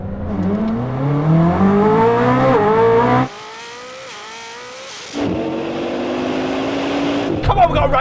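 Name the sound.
Bugatti Divo and Koenigsegg Jesko launching in drag race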